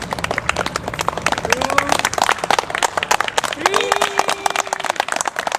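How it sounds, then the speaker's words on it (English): A live audience claps in unison on a count, steady at first and then loose and ragged, filling the room continuously while a host calls out numbers over it. "At 2 we'll be clapping like as if you are drunk"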